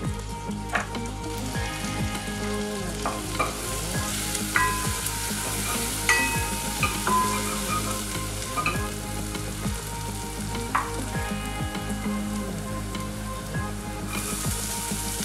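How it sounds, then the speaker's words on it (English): Garlic, ginger and chilli sizzle in melted butter, a steady crackling fry with a dense spread of small pops and occasional stirring scrapes, close and unbroken throughout. "I'm adding a cube of butter. Saute the garlic, ginger and chilli."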